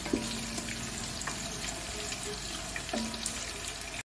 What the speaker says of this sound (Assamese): চিকেনখিনি পিঁয়াজে ফ্ৰাই কৰি আছে।